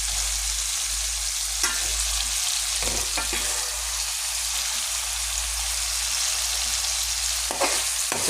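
Vegetable pieces frying in a pan and being stirred, a loud continuous sizzle with occasional scraping stir strokes, in a home kitchen.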